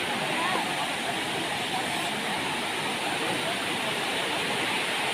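Steady, dense rush of falling water from a waterfall on Sathuragiri hill, loud and continuous throughout with no break.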